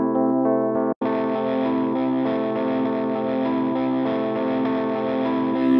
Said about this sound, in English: we've got a Rhodes piano sound being fed into a guitar amp, which we can then manipulate with other cool effects